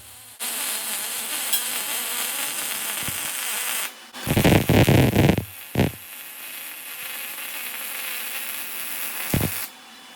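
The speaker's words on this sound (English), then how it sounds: "I start the weld in the non-tacked corner" A steady, loud, crackling buzz from welding a corner of a steel table-leg frame runs for several seconds, breaks off, and then resumes with a few sharper pops near the middle.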